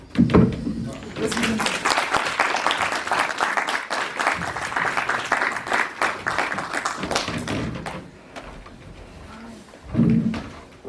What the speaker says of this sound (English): Let's give him the round of applause once more.